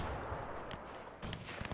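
Artillery firing gas shells in a WW1 strategy game, with the German Empire at war; a dense rumble of distant booms and crackling gunfire sits under sharper close reports near the end.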